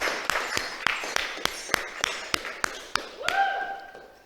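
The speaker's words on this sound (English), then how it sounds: "Let's give him a round of applause and invite him to the stage." A handful of sharp, evenly spaced claps at a small workshop session, sparse and fairly quiet, ending in a ringing tone.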